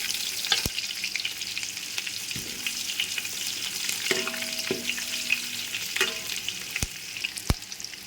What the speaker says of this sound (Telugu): ఉల్లిపాయలు కొద్దిగా వేగాలండి, మరీ ఎక్కువగా వేగకూడదు.